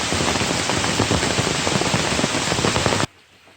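Rain pours onto a hiking trail in Pisgah National Forest, North Carolina, as a dense, steady hiss that fills the first three seconds before abruptly falling away to near silence.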